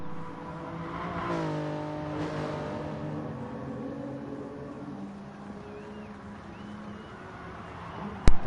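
Racing car engines roar steadily down a straight in a racing video game, side by side, with a rising engine whine early on. A sharp thump comes right at the end.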